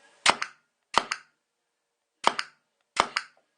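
A gas airsoft gun fires four sharp cracks in two spaced pairs, each crack trailed by a quick secondary puff of escaping gas, the leak caused by an incorrect bolt fitted in the gun.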